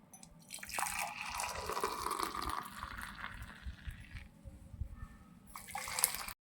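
Filter coffee decoction is poured into a cup, a close trickling, splashing stream of liquid that swells and fades over several seconds, with a final short burst at the end.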